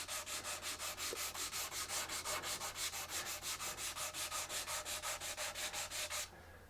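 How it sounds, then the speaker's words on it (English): Steady rhythmic back-and-forth strokes of a hard sanding block with 180-grit sandpaper scrape across guitar body wood, close and regular, about four per second, stopping near the end. "I'm going to start with a hard sanding block and 180 grit sandpaper and start sanding"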